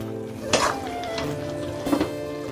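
Meat being stir-fried into a thick kosha in a pot with a little hot water, a spoon scraping and clanking against the metal twice over a steady low sizzle.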